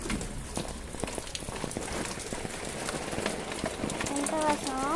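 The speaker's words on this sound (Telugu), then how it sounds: "ఎంత వర్షం, ఫుల్ వర్షం." Heavy rain falling steadily outdoors over a home vegetable garden, a dense continuous patter of drops with occasional louder splashes, a voice talking over it.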